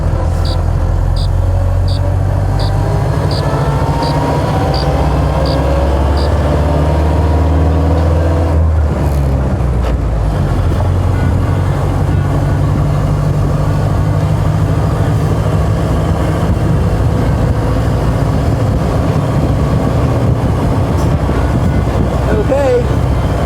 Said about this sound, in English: We're in traffic with a 97-year-old car.